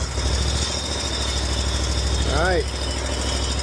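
A John Deere zero-turn mower's small engine runs with a steady low knocking chug right after starting, with a brief spoken remark midway over the drone.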